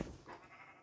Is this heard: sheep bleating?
yes